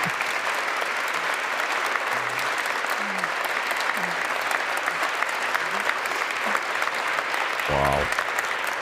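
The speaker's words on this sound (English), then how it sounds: "They're all clapping for her." A large audience applauds steadily and evenly throughout, dense clapping at moderate distance, with a brief low thump near the end.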